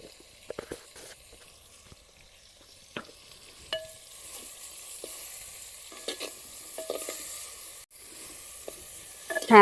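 Hog plums cook in a pan with salt and turmeric, giving a quiet sizzle broken by scraping stirs and clinks of a spatula, close by with no talk.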